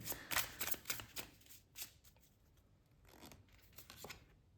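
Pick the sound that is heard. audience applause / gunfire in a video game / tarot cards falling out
tarot cards falling out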